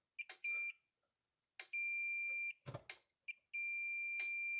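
Digital multimeter in diode-test mode beeping as its probes touch the SCR of a faulty Zareba 100 Mile fence charger: several short chirps, then long steady high tones that hold, cut off, and start again, close and clear with no talk.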